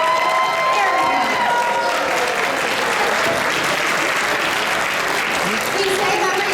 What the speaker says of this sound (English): They deserve a bigger round of applause than that